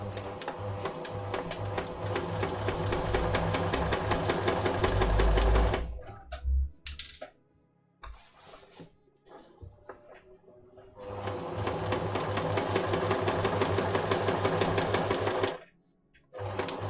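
A sewing machine stitches down a child's Gryffindor-style jacket with a fast, steady mechanical whir in two long runs, separated by quiet handling and clicks of the fabric, close up and without talk.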